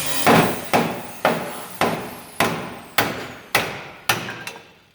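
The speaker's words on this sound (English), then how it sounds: "gonna give it a little tappy tappy. Tap tap." A hammer taps on a Chevy C10 axle during a flip kit and drop spindle install: eight sharp, evenly spaced metallic strikes, each ringing briefly before the next, with no talking.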